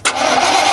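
A Chevy 350 gasoline truck engine, fueled with diesel by mistake, cranks and catches abruptly, then runs loud and close in a steady rough roar for under a second.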